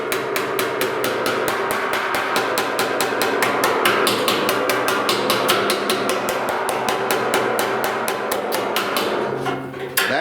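Dent repair tools tap lightly and steadily over a severely dented steel fender on a 1969 C10, the close, rapid metallic strikes running evenly for about ten seconds before easing off at the end.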